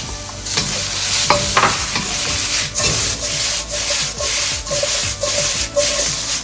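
Onions, peppers and ribeye steak cubes stir-fry in a hot pan, a steady sizzle broken by rhythmic scraping strokes of a spatula, close and loud with no talking.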